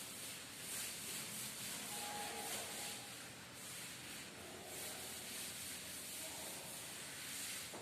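A board in a classroom being rubbed to erase it, a steady close hissing, scrubbing sound that runs evenly throughout with no talking.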